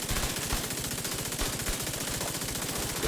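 Rapid automatic gunfire from a weapon in The Division 2, a loud continuous stream of evenly spaced shots sustained across the whole stretch without pause.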